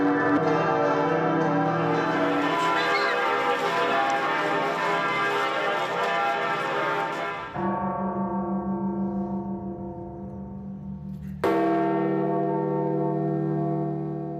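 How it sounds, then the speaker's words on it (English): Church bells peal in Buenos Aires to mark the death of Pope Francis, several bells ringing together in a loud, dense, sustained clang that thins out and is then struck again, with no talking. "In Buenos Aires, where Pope Francis was Archbishop, the bells rang out, as they did in churches around the world."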